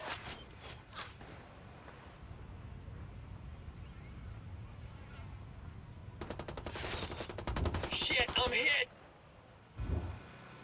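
Gunfire in the video game Ghost Recon Wildlands: scattered shots early on, then a dense rapid burst of automatic fire near the end, with a voice talking over the mix of game noise.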